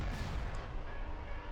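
Assault tank weapons firing in Star Wars Empire at War, a dense, continuous rumbling barrage of heavy fire that stays loud and steady throughout, with no talking.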